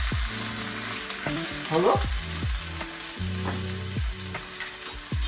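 Ginger-garlic paste frying and being stirred in a pan for chicken yakhni pulao, a steady close sizzle with scraping stirs, under background music and a brief spoken word.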